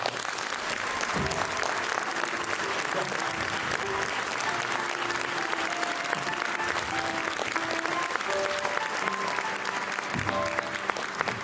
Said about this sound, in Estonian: Lihtsalt üks suur aplaus eelkõige teile ja kogu sellele majale.